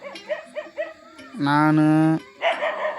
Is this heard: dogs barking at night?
yes